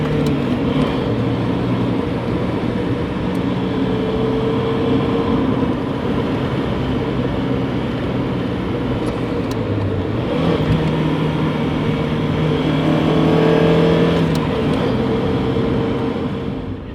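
A 1992 Mazda MX-5 Miata roadster drives along a canyon road and passes by, its engine a steady, loud drone throughout, swelling slightly as the car goes past.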